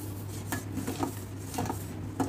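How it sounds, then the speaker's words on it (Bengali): Sweetened milk thickens in a pan for milk cake as a utensil stirs it, making repeated scraping and knocking strokes against the metal close by. "আবারও ভালোভাবে নাড়তে নাড়তে এটাকে ঘন করে নেব"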